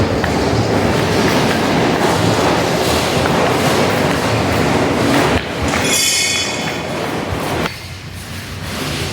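A long heritage train at the Ambarawa railway museum runs loud and close, a continuous rumble with clickety-clack of the wheels on the rails and a brief high squeal partway through.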